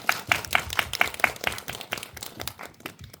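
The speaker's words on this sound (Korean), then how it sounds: "박수 한번 주실까요?" Scattered audience clapping at a film screening Q&A for the Korean film The House of Seasons, a fairly small crowd whose distinct claps start crisp and then thin out and fade over a few seconds.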